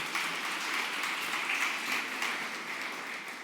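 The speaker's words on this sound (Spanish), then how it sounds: "Vamos a darle un aplauso a nuestro Señor." Church congregation applauding during a Spanish-language evangelical service, a steady diffuse wash of many hands clapping in a reverberant room, even and sustained, somewhat distant.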